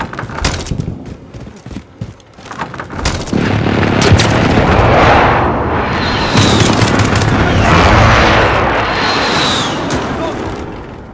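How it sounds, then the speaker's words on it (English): Precision airstrike in Call of Duty: Modern Warfare on PS4: a burst of sharp gunfire gives way to a long, loud, rolling barrage of explosions that rumbles on for several seconds. "Precision airstrike."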